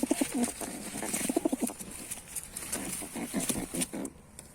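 A female tumbler pigeon coos close by in repeated soft, throaty bursts, with light rustling between the calls.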